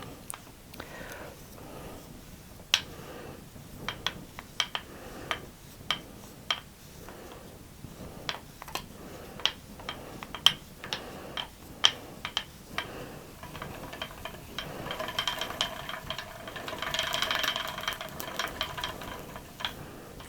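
Antique spinning wheel spinning yarn onto a bobbin, with soft irregular clicks and ticks over a quiet mechanical rumble and a faint rustling swell near the end.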